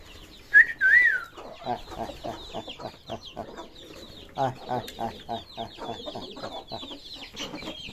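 A rooster and chickens on a small farm cluck and chirp in a busy, irregular stream, with a brief high whistling call near the start; close and moderately loud, with no talking.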